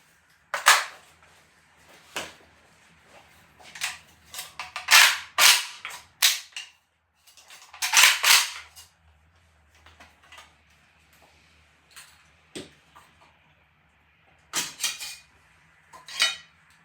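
Metallic clicks, snaps and clacks ring out sharply as a Century Arms VSKA rifle with about 5,000 rounds fired is taken apart. Irregular bursts are separated by short quiet gaps, with no talking.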